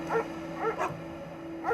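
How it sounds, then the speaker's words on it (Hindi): Several dogs bark and whine outside a cottage at night in a horror story scene, sounding as a few short yelping bursts at a moderate distance over a steady low hum. "तभी मुझे कॉटेज के बाहर कई सारे कुत्तों के भौंकने और रोने की आवाज सुनाई"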